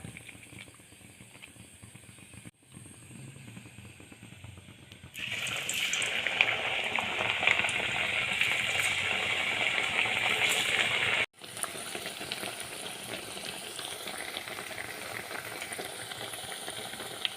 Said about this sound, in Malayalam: എണ്ണ ചൂടാകുമ്പോൾ അതിലേക്ക് വട പോലെ പരത്തിയിട്ട് ഇട്ട് കൊടുക്കാം